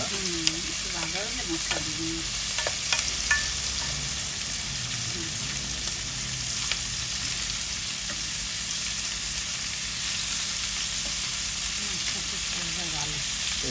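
Steady sizzle of onion and garlic frying in oil runs throughout, with a few faint clinks and a brief voice early on.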